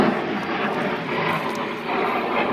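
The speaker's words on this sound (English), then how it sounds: "Oh, jet. You can hear the jet." A jet aircraft passes overhead near an abandoned 1963 Buick LeSabre, a steady broadband engine roar that holds at a fairly even level for the whole stretch, with no voices over it.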